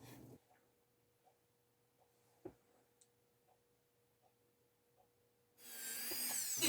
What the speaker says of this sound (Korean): 드릴과 라운드바 작은 배주를 이용해서 다듬습니다.